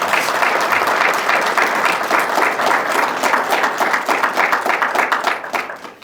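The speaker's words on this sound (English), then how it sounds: "Please, a little round of applause for them." An audience at the Suffolk County Police Department's annual Ramadan conference applauds the police officers standing around the room, a dense, loud, steady clapping that carries on for several seconds.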